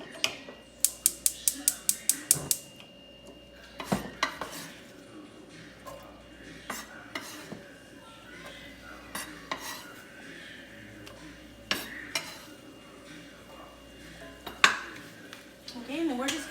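Big chunks of onion stirred in an iron skillet, with a burst of quick metallic clinks at the start, then scattered scrapes and taps of the utensil against the pan over a low sizzle, with a voice talking at times.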